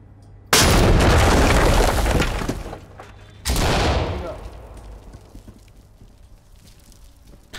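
Automatic gunfire in the tactical shooter Ready or Not comes as two loud, sustained bursts of full-auto shooting, the first about two seconds long and the second shorter, each ending in a fading echo.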